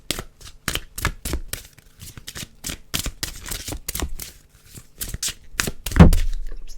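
Tarot cards being shuffled in quick, repeated riffling bursts up close, ending with a louder thump as the microphone gets bumped.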